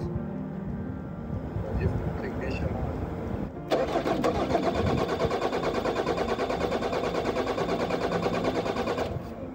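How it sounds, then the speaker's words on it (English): A campervan engine cranks over steadily with a rapid, rhythmic churning whine that runs for several seconds without catching, heard up close; a faulty relay is suspected. "It did turn the engine over, but I didn't try and hold it to see if it will start."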